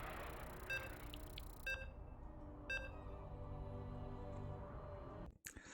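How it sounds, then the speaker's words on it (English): Short electronic beeps from a StarCraft 2 tournament broadcast, repeating about once a second as bright tones, then ending in a brief clatter. "As you can hear the beeps."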